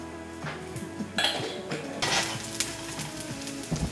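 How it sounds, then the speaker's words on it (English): Shiitake mushrooms sear in a hot pan while cooking Tom Kha Gai, giving a steady close sizzle broken by clattering utensil and pan knocks, with no talking. "shiitake happens. It's happening in the pan right now."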